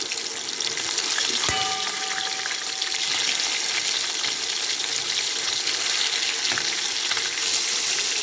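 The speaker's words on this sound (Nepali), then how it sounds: "माछा हाम्रो यत्तिको गोल्डन भएपछि हामीले यसलाई फर्काउँछौँ" Fish sizzles and crackles loudly in hot mustard oil in a pan, a dense, steady frying hiss with a sharp click and a brief spatter burst as a piece is turned over.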